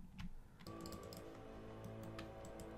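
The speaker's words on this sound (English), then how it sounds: "I keep clicking and nothing happens." Faint computer mouse clicks come during play of a computer game, a few soft, irregular ticks over a low steady hum.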